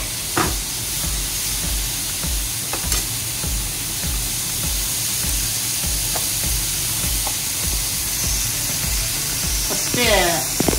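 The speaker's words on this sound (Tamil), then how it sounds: "ஃபஸ்ட்டு எண்ணெய் போட்டு வெங்காயம் போட்டுடணும்." Finely chopped onions fry in hot oil for a Tamil-style prawn gravy, giving a steady close sizzle with occasional stirring clinks and scrapes throughout.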